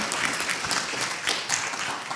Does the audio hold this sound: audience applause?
yes